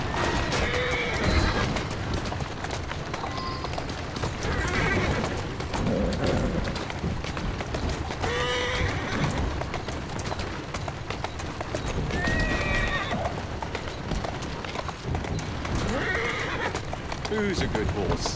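Horse neighs and whinnies with clip-clopping hooves in the video game Assassin's Creed Syndicate, several whinnies spread through a busy in-game soundscape, with voices talking over it.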